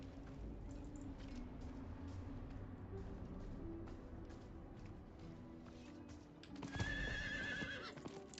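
A rideable horse in the video game Diablo 4 gives a loud whinny near the end, over steady game ambience and clip-clopping hooves. No voices are heard.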